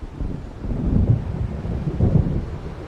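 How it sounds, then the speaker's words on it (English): Thunder rumbles from an approaching storm in the video game Alan Wake Remastered, a deep rolling boom with two swells over wind and rain, fairly loud and with no voices. "It seems there's a storm coming."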